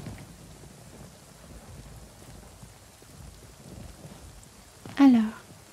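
Steady rain hisses through a French survival video game in hard mode, with a faint low rumble of thunder and one sharp, louder crack near the end.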